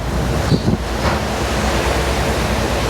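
Strong wind roars across the microphone in heavy, rumbling gusts on the front deck of a cruise boat on the Bosphorus Strait, with the wash of sea water underneath; no voices.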